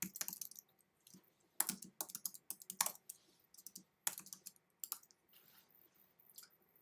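Quiet keystrokes on a computer keyboard come in short irregular bursts of clicks with brief pauses, as if names are being typed in, with a close, dry room sound and no talking.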